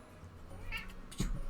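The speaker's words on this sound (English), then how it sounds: "Here's my cat." A house cat gives a short meow followed by a second brief cry, close and fairly clear over quiet room tone.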